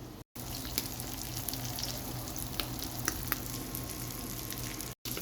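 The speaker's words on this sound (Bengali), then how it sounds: "আর চুলায় ডিম ভেজে নিচ্ছি এভাবে একে একে সবগুলো ডিম আমি ভেজে নেব" Eggs frying one after another in a pan on a stove, a continuous close hiss of sizzling oil with scattered sharp pops and crackles, heard alone with no talking.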